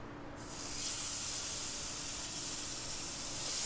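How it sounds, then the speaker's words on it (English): Burger patties hitting an extra-hot gas Weber Q griddle give a loud, steady hiss-like sizzle that bursts in abruptly and holds without pause, close up and with no talking. "You can hear that nice sizzle."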